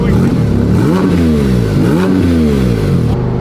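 A rebuilt, crash-damaged Porsche 911 GT3 engine revs hard several times in quick succession, its pitch sweeping up and down with each throttle blip, close and alone.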